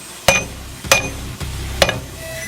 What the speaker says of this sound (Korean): 이렇게 큰 망치로 때려도 안 부러져요